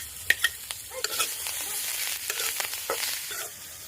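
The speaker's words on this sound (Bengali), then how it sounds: "আর একটু লাড়া ছাড়া নামা দিব।" Flat beans being stirred and fried in a pan with coriander leaves, a soft sizzle running steadily beneath close, irregular scrapes and taps of a spatula against the pan.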